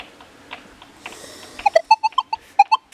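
A metal detector running in single frequency at 5 kHz gives a series of short, bright beeping tones in quick succession, faint at first and then sharper and louder, over a quiet rustling background.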